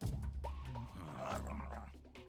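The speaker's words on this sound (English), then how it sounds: "Don't you dare think about trying to capture an attack dog." An attack dog in Metal Gear Solid 3 barks and growls in short, close bursts, with yips and whimpers, loud against the game's background.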